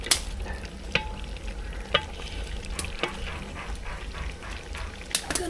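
Duck meat fries in a pot while being stirred, producing a continuous crackling sizzle with regular sharp scrapes and clanks of the spoon, close and steady, with no talking.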